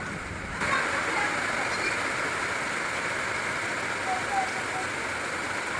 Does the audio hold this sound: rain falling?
yes